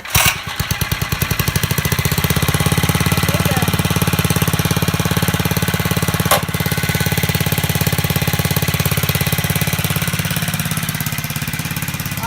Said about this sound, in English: So it started first try, it's idling